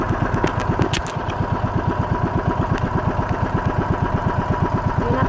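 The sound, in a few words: boat engine running near shore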